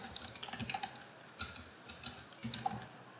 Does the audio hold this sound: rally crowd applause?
no